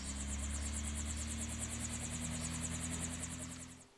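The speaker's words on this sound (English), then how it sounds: "and this Rotaway helicopter." A steady, loud whirring engine drone with a rapid rhythmic chopping pulse throughout from a nearby Rotaway helicopter, fading slightly at the end.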